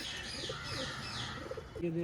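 A green-eyed female pigeon coos softly at a distance, its calls faint and mixed with light chirps, with a brief louder tone near the end.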